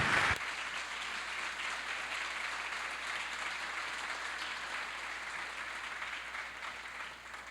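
A church congregation applauds together, a dense, steady wash of clapping that starts abruptly and holds at an even level for several seconds.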